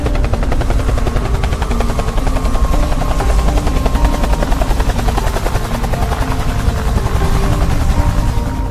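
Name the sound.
helicopter approaching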